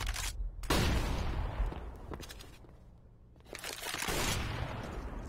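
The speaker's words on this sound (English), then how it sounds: "Deploying flashbang. Throwing flashbang." A flashbang grenade goes off in the game CS:GO, giving a sharp loud burst followed by a long ringing decay, and a second blast-like noise rises near the end.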